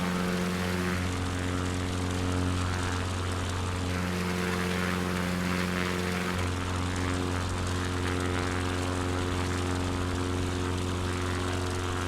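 Small propeller airplane droning steadily in Microsoft Flight Simulator 2020 over Montana, a constant engine hum with a pitch shift partway through, no talking.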